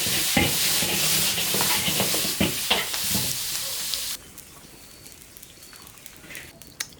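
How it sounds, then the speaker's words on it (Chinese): Pork tripe stir-fried with chili and red oil in an iron wok, loud crackling sizzle and scraping stirs for about four seconds, then dropping to a quieter simmering hiss. "爆炒猪肚"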